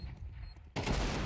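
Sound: Desert Eagle pistol gunfire in CS:GO, video game

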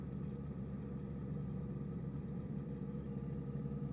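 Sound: car exhaust sounding like a trumpet

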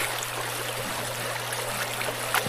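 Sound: person wading across a river

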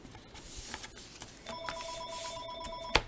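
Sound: phone ringing

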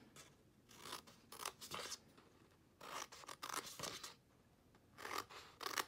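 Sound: cutting gift box paper along score lines

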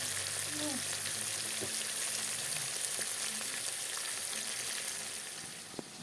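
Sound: fish frying in a wok

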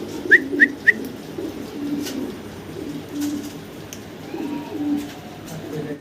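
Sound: fancy pigeons cooing

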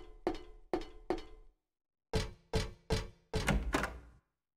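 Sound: door in video game Silent Hill 3

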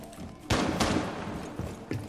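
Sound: gunfire in Rainbow Six Siege video game

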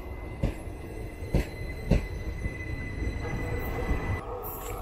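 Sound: Ernad Express train arriving, hauled by a Vijayawada WAP-4 locomotive

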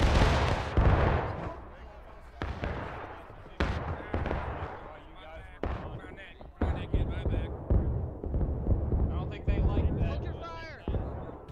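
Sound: musket gunfire in War of Rights video game

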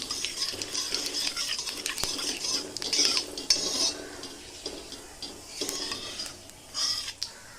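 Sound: panch phoron spices frying in oil, stirred

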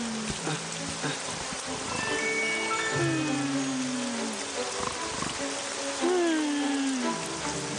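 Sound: rain falling in a cartoon

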